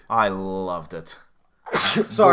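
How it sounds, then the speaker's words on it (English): A single sharp sneeze bursts out near the mic between bits of speech during a spoken movie review discussion, with voices talking just before and after it. "why didn't you get all your sneezes out before we started recording?"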